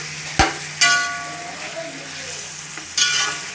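Washed mutton pieces hitting hot oil with turmeric in a pan for mutton biryani, bursting into a loud sizzle with clanks of a stirring spoon, then a steady frying hiss.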